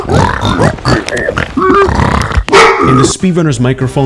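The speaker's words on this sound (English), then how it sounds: "you can hear a dog barking" A dog barks through a Minecraft speedrunner's microphone, buried beneath continuous close, loud talking that dominates the whole stretch.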